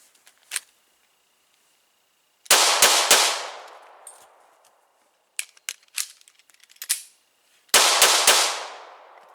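A handgun fired at a target during a practical drill: a quick burst of loud, sharp shots with ringing decay, then a few metallic clicks and clacks of a reload, then another rapid burst of shots.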